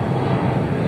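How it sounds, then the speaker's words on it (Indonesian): An airplane taking off from Yogyakarta International Airport gives a loud, steady engine roar, dense and low, filling the short moment without any voices. "dan pas sekali itu ada pesawat yang sedang take off"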